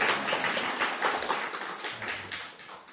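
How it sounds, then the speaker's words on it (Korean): A church congregation claps to welcome visiting members during a service, a moderate, somewhat sparse spattering of hands that swells and eases in waves, heard at a modest distance. "우리 박수 한번 쳐주세요"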